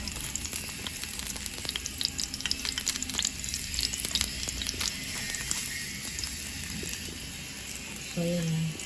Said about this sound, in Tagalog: piprito rin natin yung iba